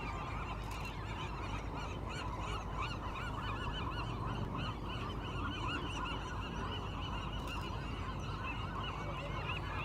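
A dense, continuous chorus of seagulls calling from a large flock out on the rock, overlapping squawks filling the air steadily and loudly with no pauses.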